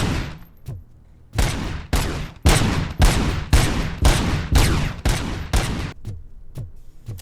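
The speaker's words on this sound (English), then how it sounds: "This one is a single shot with explosive rounds that turns into a shotgun." An explosive-round shotgun in RoboCop: Rogue City fires a rapid string of about a dozen loud, booming blasts, each with a short decaying tail, close and unaccompanied by talk.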